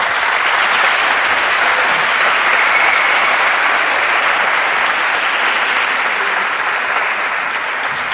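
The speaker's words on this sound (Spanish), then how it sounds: "un aplauso para Ignacio" Audience at a university science students' congress applauds a speaker, a dense, steady wash of many hands clapping at close range that holds loud and even throughout, with no talk over it.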